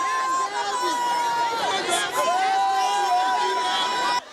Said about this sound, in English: this mammoth crowd that trooped out to welcome Vice President Yemi Osinbajo to the Omu Ekiti community in Ekiti State